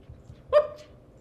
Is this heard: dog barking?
yes